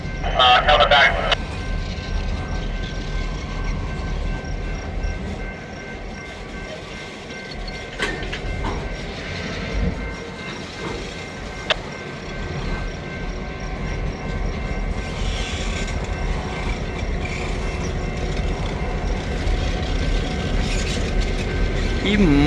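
A freight train rolls slowly onto a wye track, with steady mechanical rumble, clanking couplers and squealing wheels throughout while people talk over it.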